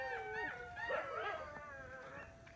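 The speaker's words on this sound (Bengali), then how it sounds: "শিয়াল ধরছে কুত্তায়" Dog chasing a jackal at night on a farm, rising and falling wavering howls and yips layered over each other, moderately distant and faint.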